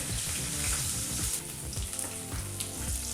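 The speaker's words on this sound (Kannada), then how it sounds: "ಬೆಳ್ಳುಳ್ಳಿನೂ ಹಾಕಿ ಲೋ ಫ್ಲೇಮ್ನಲ್ಲೇ ಇದನ್ನೆಲ್ಲ ಒಂದು ನಿಮಿಷಗಳ ಕಾಲ ಫ್ರೈ ಮಾಡಿಕೊಂಡ್ರೆ ಸಾಕಾಗುತ್ತೆ" Crushed garlic and asafoetida fry on a low flame for a village-style onion and tamarind gojju, giving a steady close sizzle with soft stirring and a tonal background hum throughout.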